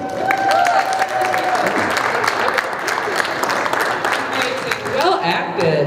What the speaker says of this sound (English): one more round of applause for our fabulous team reading